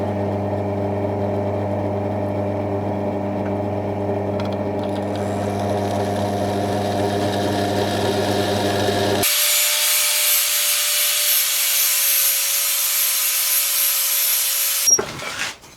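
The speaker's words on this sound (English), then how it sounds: "we need to use a flap sander grinder to get the mill scale off so it's ready to weld" A flap sander on a grinder removes mill scale from steel flat bar: a steady humming whine with strong harmonics, then a loud, close, hissing grind that runs for several seconds before cutting off abruptly.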